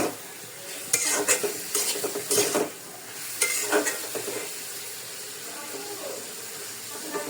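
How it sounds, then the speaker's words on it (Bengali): Fried potatoes are tipped into a hot pan and stirred, cooked alongside Malabar spinach seeds, giving a steady sizzle with several loud bursts of scraping and clattering from the spoon against the pan. "এই পর্যায়ে ভাজা আলুগুলো দিয়ে দিতেছি।"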